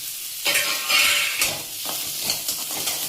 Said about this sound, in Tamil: கடுகு பொரிஞ்ச உடனே கட் பண்ணி வச்ச பரங்கிக்காய் பிடிச்சு போடுறோம்.